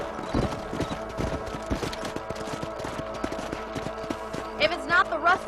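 Horse hooves clip-clop at a steady trot in the Red Dead Redemption video game, a close, rhythmic patter with game music and ambience around it and a short whinny near the end.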